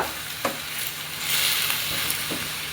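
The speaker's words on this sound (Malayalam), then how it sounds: "നന്നായിട്ടൊന്ന് ഇളക്കി കൊടുക്കുക." Ivy gourd with salt and turmeric is stirred in a hot pan, giving a brief steady frying hiss close by, with a few scrapes of the spoon.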